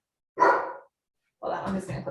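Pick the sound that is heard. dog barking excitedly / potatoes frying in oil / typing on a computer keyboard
dog barking excitedly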